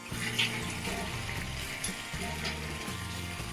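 Water poured into a pan of aloo posto with sojne daanta, a continuous splashing pour over a hot frying hiss, close and fairly loud.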